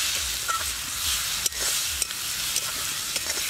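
Ground spices and beaten egg frying in a pan and stirred, a loud continuous sizzle broken by a few sharp scraping knocks of the spoon, close up and without speech.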